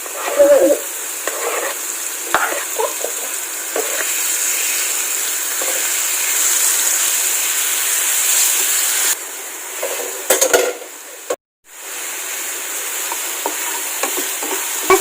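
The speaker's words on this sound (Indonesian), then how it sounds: "aduk terus sampai wangi." Stirring shallots and ingredients frying in a pan for Indonesian sweet potato soup, a steady close sizzle with scraping spatula strokes throughout, briefly interrupted by a short dropout near the end.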